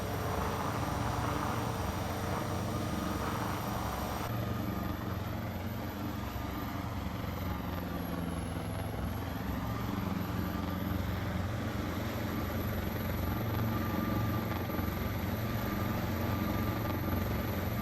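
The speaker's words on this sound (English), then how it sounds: "This was a fun little confined approach to do with this helicopter." A Cowansim S76C++ helicopter in Microsoft Flight Simulator 2024 makes a steady, loud rotor and turbine drone that continues unbroken and alone, with a high whine held over the whole stretch during a slow confined-area approach.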